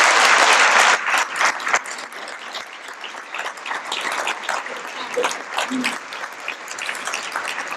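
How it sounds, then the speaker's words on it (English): An audience at a student keynote event claps for Riley in a loud burst that eases into sustained, uneven applause, with a few voices faintly underneath. "Please give Riley one more round of applause."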